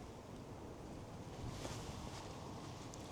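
Steady broadband wind noise buffets the microphone outdoors on a street at night during Christmas lights, a constant low rushing roar with no other distinct sounds.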